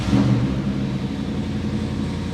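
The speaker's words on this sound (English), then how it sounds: "606 horsepower, 426 engine." A Jeep fitted with a 606-horsepower 426 engine gives off a steady, deep, close rumble with a slight rise in revs near the start, then a sustained low drone.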